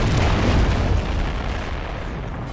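Cannon fire and explosions from a naval battle in the strategy game Anno 1404: Venice, a dense rumbling barrage of booms that fades slightly over a couple of seconds, with no talking.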